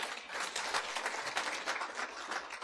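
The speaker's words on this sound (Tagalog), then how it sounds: "Palakpak kini Lord." A church congregation bursts into sustained applause during an Ilocano-language preaching service, dense, steady clapping filling the room without a break.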